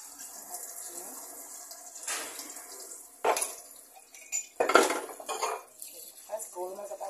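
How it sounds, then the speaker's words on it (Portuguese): Dishes being washed in a kitchen sink, with pots and cutlery clinking and clattering over running tap water, several sharp knocks standing out. "lavar aqui a louça."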